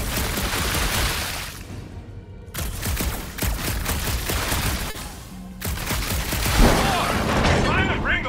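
Gunfire in Marvel's Guardians of the Galaxy, with dense bursts of shots and booms running through the whole stretch and briefly easing in places. Voices talk over the loud, busy combat.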